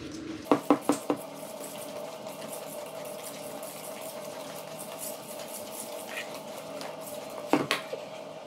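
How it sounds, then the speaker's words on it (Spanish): Muffin batter is stirred in a bowl, with a few sharp clinks of utensil against the bowl in quick clusters at the start and end, over a steady low hum. "Ya me fastidió la masa y ahora hay que volver a darle vueltas"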